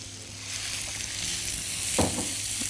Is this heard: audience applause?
no